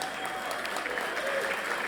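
Guests at a business college's 50th anniversary gala applaud in a soft, steady patter, fairly distant and even throughout.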